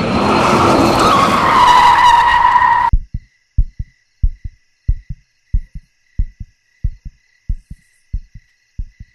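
A car skids hard in a loud, continuous broadband screech lasting about three seconds before cutting off abruptly, followed by a slow series of evenly spaced, thudding heartbeat-like pulses with no talking.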